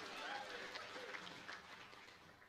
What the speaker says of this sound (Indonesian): Tepuk tangan juga bagi semua sektor yang sudah ambil bagian